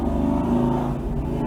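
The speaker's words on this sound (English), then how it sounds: "there's a motorcycle" A motorcycle engine rumbles steadily nearby, a low throbbing drone that shifts slightly in pitch as it passes, loud and continuous across the short moment.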